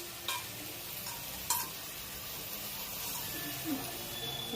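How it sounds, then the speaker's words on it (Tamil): Chicken gravy masala with chilli and pepper powder being stirred and sautéed in a pan, a steady soft sizzle running throughout with a couple of brief scraping clinks near the start. "நல்லா வதக்கி விட்டுருங்க"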